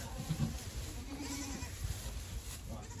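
Baby goats bleat in a farm pen. There are a couple of faint, short cries close by, set against steady outdoor background noise.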